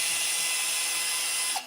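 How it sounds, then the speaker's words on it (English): A handheld power drill, its motor built with rare earth magnets, spins at a steady high-pitched whine, then winds down and stops abruptly near the end, heard alone without talk. "and even this drill"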